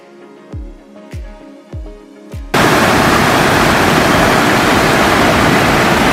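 A foaming, gurgling mountain stream on the Rajmachi fort trek route near Lonavala bursts in as a loud, steady, close rushing roar after a few soft plucked notes.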